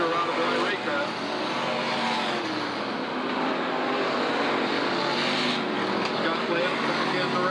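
Race cars roar around the Southern Oregon Speedway track in a steady, distant engine drone, with a public-address announcer talking over the noise throughout.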